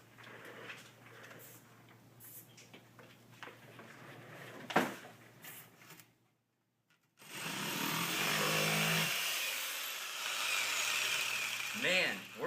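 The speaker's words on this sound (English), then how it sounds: "working this jigsaw is a real puzzle" An electric jigsaw cutting through wood, its steady buzzing whine running loud for about five seconds after a pause, following earlier handling clatter and a sharp knock.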